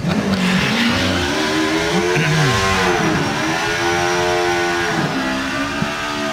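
A superbike at Santa Pod during FIA Super Street Bike drag racing qualifying, its engine revving hard with harmonic sweeps that fall away as the rider shuts off, loud and continuous with no talk.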